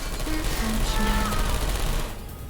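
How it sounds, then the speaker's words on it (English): Rapid bursts of Portal 2 gunfire crackle over a busy mix of game sounds and tones, steady and fairly loud, fading slightly near the end. "You heard gunfire."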